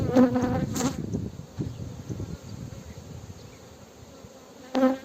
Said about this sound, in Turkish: Şimdi arılar tekrar çıkacaklar, başladılar çıkmaya, sarmaya.